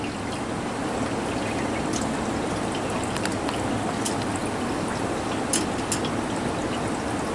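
Water drains steadily from the heat exchanger of a Rinnai tankless water heater during servicing, a continuous close trickle and pour with no talk.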